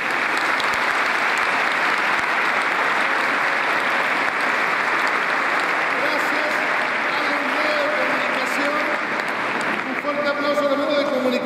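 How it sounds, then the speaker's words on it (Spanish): An audience at a town patron-saint festival gives a strong round of applause. The clapping is dense and steady for more than ten seconds, with murmuring voices and a few tonal sounds rising toward the end. "Un fuerte aplauso nuevamente."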